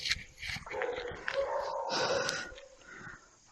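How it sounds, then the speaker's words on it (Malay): A dog barks repeatedly somewhere around an old, decaying warehouse, the barks faint and distant in short irregular bursts. "Anjing tidak berhenti untuk gonggong kita, saudara"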